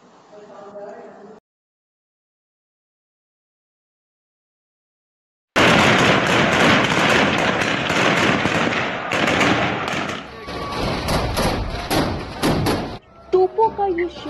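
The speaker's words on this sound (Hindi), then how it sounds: "तोपों का ये शोर, बारूद के धमाके" After a short silence, a dense, rapid barrage of loud cracking cannon fire and gunpowder blasts erupts, continuing for several seconds before tapering into scattered bangs.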